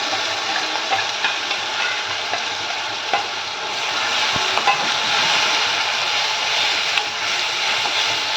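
Tomato paste with curry leaves frying in hot oil for a drumstick masala curry, giving a steady close sizzle with light stirring scrapes throughout, no voices.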